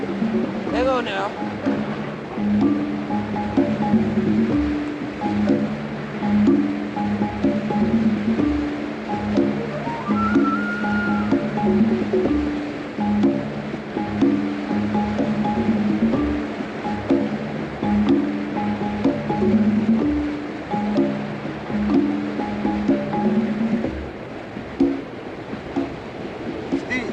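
White water rushes under a boat in a steady, close, broadband wash that lasts throughout, with droning tonal sounds layered over the surging water.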